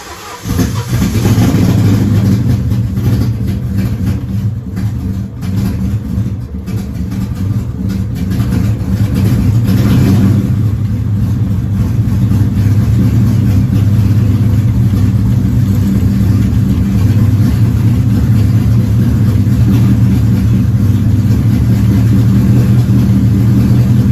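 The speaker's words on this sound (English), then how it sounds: "We got the engine up and running." An S550 Ford Mustang engine runs steadily at close range, a low rumbling idle that rises into revs and holds loud throughout, with no talking.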